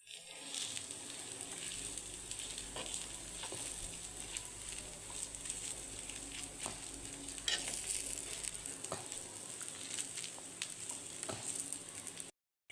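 Pesarattu dosa sizzles on a hot pan as upma is spread over it, a steady, even frying hiss that continues unbroken at moderate volume before cutting off abruptly.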